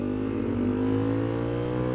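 A Honda CRF250L motorcycle engine accelerating on a city ride on a cold day, a steady loud mid-pitched drone with a slight rise in revs, heard up close and alone.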